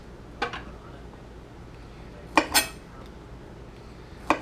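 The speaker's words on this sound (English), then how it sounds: "And I'm just cutting those little ends off." A knife trimming the ends off garlic cloves on a cutting board, a few faint, sharp taps spaced apart against a quiet room.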